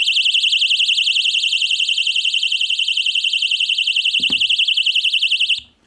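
A loud, shrill electronic noisemaker buzzer on an R/C plane warbles in a fast steady pulse, close by, then cuts off abruptly near the end.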